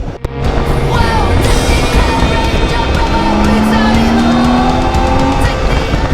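A BMW K1600B touring motorcycle engine holds a steady, loud drone while riding in third gear, with a continuous rising whine and road noise throughout and no speech.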